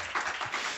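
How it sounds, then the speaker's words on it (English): Brief burst of audience applause at a World AIDS Day symposium, steady broadband clapping from a crowd lasting under a second, fairly faint and without speech. "It's an applause."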